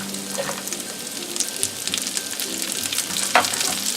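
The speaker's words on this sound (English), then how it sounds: "And now we're going to let this fry until it's a little soft." Carrots and peas frying in a shrimp stir fry, giving a steady close sizzle with soft crackles and a few light scrapes throughout, without any talking.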